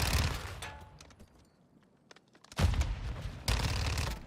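Video game gunfire: a burst of shots, then a quieter gap with scattered faint clicks, then two loud, sharp volleys of rapid fire close up, with no speech.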